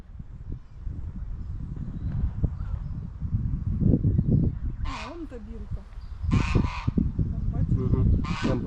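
Loud nasal honks from geese ring out in a few bursts, some overlapping, in a park by the Tisza river, over a steady background of outdoor noise and low rumble.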